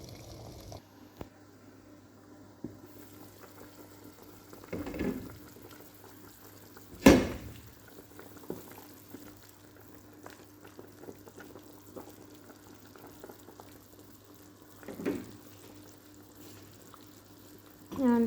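A pot of water simmering for chicken and rice bubbles faintly and steadily in a quiet kitchen, with a few soft knocks and clinks of utensils now and then.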